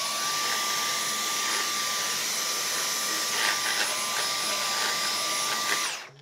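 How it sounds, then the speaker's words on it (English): A Dyson vacuum cleaner runs steadily at close range with a high whine, its pitch shifting slightly as it moves over a piece of carpet, then switches off at the end. "I'm simply just going to clean and vacuum this piece of carpet"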